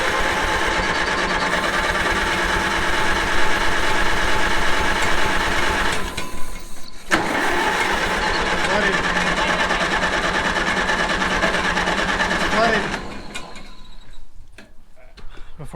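Starter cranking on an abandoned Ford TW-10 tractor with ethanol fuel, a steady mechanical churning that runs continuously, breaks off briefly midway, resumes, then stops, followed by a few scattered clicks and knocks near the end.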